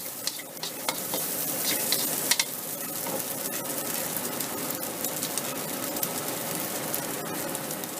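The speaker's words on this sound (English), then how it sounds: "I throw in all my meat so that the meat picks up the flavor of the spices. And stir it around." Pieces of meat stir-frying with spices in a hot pan for fried rice, a loud steady sizzle with scraping stirs and small crackles throughout, no talking.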